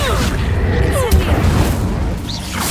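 Incendio fire spell cast in the video game Hogwarts Legacy, heard as a loud booming burst with crackling impact layered over constant rumbling game ambience, with a second thump partway through.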